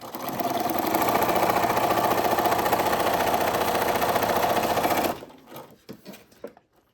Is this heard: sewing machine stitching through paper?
yes